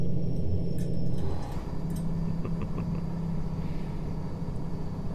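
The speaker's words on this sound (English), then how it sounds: "This truck is quiet, man, when the windows are rolled down. I mean, rolled up." A truck engine in American Truck Simulator rumbles at a steady, low idle-like drone, muffled inside the cab, continuous and unchanging throughout.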